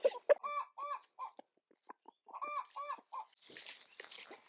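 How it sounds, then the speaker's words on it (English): Chickens cluck in short, repeated bursts of nasal calls, fairly close, with scattered pecking ticks and a rustle near the end. "just feed it to my noisy chickens next door"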